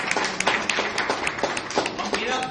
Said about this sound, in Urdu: آیات بھائی کے لیے پہلے تالیاں بجا دیں